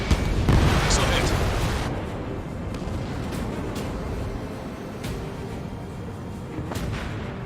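A missile striking heavy armor on a battlefield in Ace Combat 7 lands as a loud, deep boom that rumbles and tapers off, leaving a dense wash of combat noise with scattered distant thuds and voices over it.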